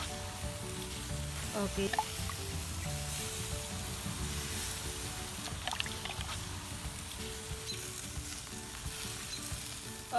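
Filipino-style barbecue chicken grills over heat, giving a soft, steady sizzle and crackle as it is basted with sauce and turned. The sound is faint and continuous, with a brief spoken word near the start.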